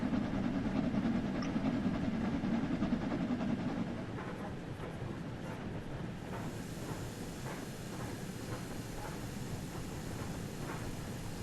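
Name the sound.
train hauled by Jubilee class steam locomotive on railtour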